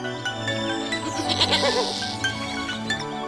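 A goat grazing on a mountain bleats in a wavering, nasal call over steady background music, the bleat clear and fairly close in the middle of the stretch.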